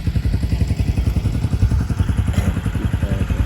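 A motorcycle engine chugs steadily up close with a rhythmic low throb and some clatter as it arrives during a drama scene shoot, with no voices over it.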